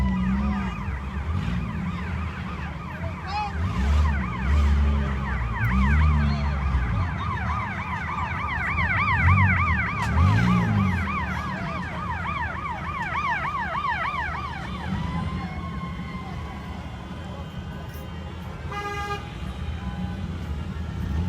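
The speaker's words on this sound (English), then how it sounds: "Besides horn, gunshots, and sirens, that's all I've heard for probably the last 2 hours." Emergency vehicle sirens wail in repeated rising and falling sweeps amid street noise and honking during a protest, fading after about fifteen seconds as traffic rumble continues.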